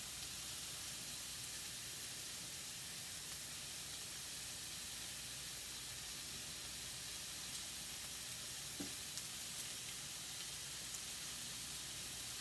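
A steak fries in a pan heated nearly on high, giving a steady, soft, unbroken sizzling hiss with no talking.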